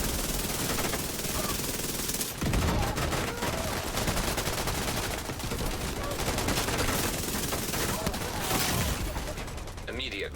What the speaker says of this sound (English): They just all started shooting at me.